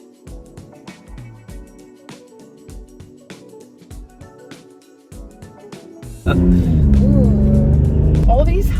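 Jeep Gladiator driven on a mountain road; talking dominates at first, then a loud, steady roar of engine and road noise rises sharply and continues under the voice.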